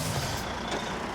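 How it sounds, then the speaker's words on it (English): Air hisses into a low, soft tyre on an outback road train hauling 100-tonne dump trucks, a loud continuous rushing hiss close by with slight surges, and no talking. "Cam's just putting a bit of air in that doughy tyre we got"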